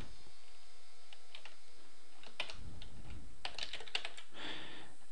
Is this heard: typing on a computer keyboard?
yes